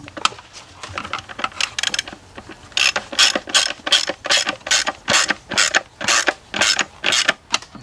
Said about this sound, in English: I'll be using a torque wrench, so what you do is tighten them down until it stops.